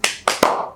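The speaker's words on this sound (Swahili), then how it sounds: "Makofi." Three sharp hand claps in quick succession, close and loud, with no talking over them, the last one ringing out a little longer.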